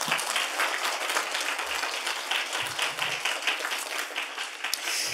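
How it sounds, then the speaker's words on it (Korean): A church congregation claps together in praise, a dense, steady wash of many hands that holds from start to finish, with a few low thumps beneath it. "우리 한번 박수로 하나님께 영광 올리겠습니다"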